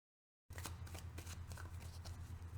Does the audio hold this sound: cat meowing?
no